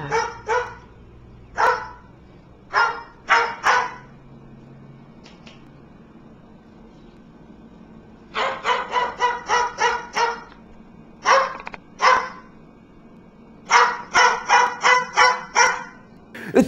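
Sharp, close barks come in clusters. Single yaps and short runs are spaced out at first, then rapid strings of five or six barks follow in the second half, with quiet pauses between them.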